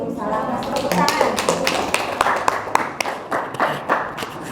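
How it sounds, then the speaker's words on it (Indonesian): Scattered classroom hand clapping from students after a group presentation, sharp individual claps over a murmur of talk. "Tepuk tangan."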